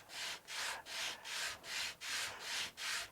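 Rhythmic back-and-forth sanding on wooden back braces of an acoustic guitar under construction, eight even hissing strokes, close and fairly quiet with no talking.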